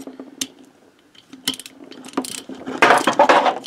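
A ratchet with a 12 mm socket makes the first tightening pass on engine bolts, low then high, sounding as loud close clicking bursts with a short clatter near the end.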